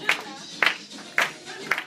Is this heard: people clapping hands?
yes